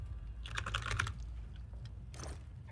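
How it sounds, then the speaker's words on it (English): Keys clatter on a computer keyboard in quick, uneven bursts of typing, fairly close, with a short pause and then a brief second flurry; no one speaks. "I can just hear the glorious sounds of my keyboard."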